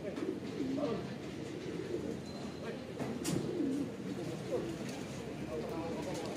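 Racing pigeons returning home to the loft coo repeatedly in soft, low calls, mixed with background chatter and occasional faint bird sounds nearby.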